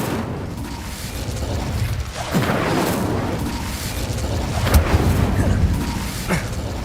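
The Incendio fire spell in Hogwarts Legacy bursts into a loud, sustained whooshing roar of flames, with low rumbling booms and crackles rising and falling throughout.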